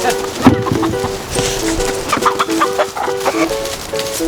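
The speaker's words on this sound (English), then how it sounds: "Right now we're gonna go look at their chicken setup" Chickens clucking in a homestead chicken setup, a close flock giving repeated short clucks and rising murmuring calls in uneven rhythm, with faint background sound.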